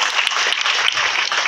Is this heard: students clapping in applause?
yes